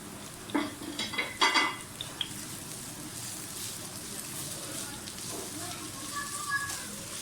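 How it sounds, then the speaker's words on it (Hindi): Onion, capsicum, tomato and green chili fry in a pan for chicken jalfrezi, with a few sharp clinks of a utensil against metal early on over a soft, steady sizzle that carries on quietly to the end. "प्याज, शिमला मिर्च, टमाटर और ये हरी मिर्च, इनको थोड़ा सा फ्राई करेंगे हम"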